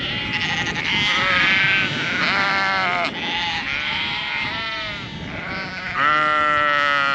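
A flock of sheep bleats continuously on a farm, with many overlapping wavering calls close by and loud, some rising above the rest, and no speech.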